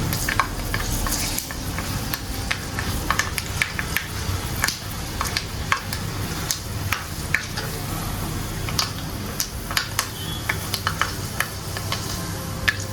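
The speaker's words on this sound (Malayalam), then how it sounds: "അപ്പോൾ ഇനി ആ ഉലുവയൊന്ന് മൂത്ത് നന്നായിട്ടൊന്ന് പൊട്ടട്ടെ" A teaspoon of fenugreek seeds fries and splutters in hot oil, a dense continuous sizzle broken by frequent sharp pops and crackles, close and fairly loud with no talking.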